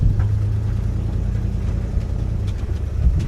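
The 351 V8 of a 1980s Ford Bronco truck rumbles low and steady up close. A few faint knocks and a slight swell in engine sound come toward the end.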